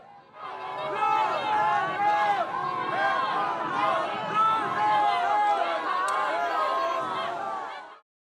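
Supporters cheer and shout loudly as the presidential convoy carrying President Yoon Suk Yeol passes, a dense crowd roar of many voices rising and falling continuously for several seconds up close.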